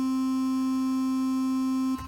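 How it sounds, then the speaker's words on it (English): Sixteen identical synth voices stacked with zero detune, merging into one steady, pure sustained tone that holds unchanged for about two seconds before cutting off abruptly. "This is what it sounds like to have 16 of this sound,"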